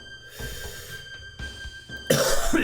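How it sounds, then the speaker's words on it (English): A man gives a few quick, close coughs in short bursts, with a sharper, louder one near the end, indoors over a faint steady hum. "I cough."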